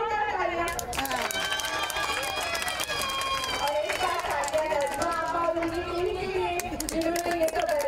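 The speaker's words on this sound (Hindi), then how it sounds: "तो इनके भी जोरदार तालियां" Scattered clapping from an audience at a Christmas celebration with children mixes with lively voices and cheering, the applause irregular and partly buried under the chatter.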